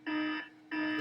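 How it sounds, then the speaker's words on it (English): An electronic alarm goes off nearby in two loud, steady, buzzing tones, each lasting under half a second, with a short gap between them and no speech. "Set the alarm."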